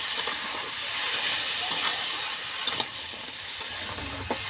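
Dried fish, eggplant and jackfruit seeds fry in oil, a continuous soft hiss and sizzle with a few sharp crackles and clicks of stirring, close but fairly quiet.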